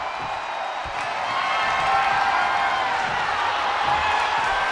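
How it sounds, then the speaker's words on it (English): Video game crowd in WWE 2K24 during an Undertaker versus The Fiend ambulance match, a steady roaring wash of cheering that swells slightly and holds loud throughout. "The crowd is fired up."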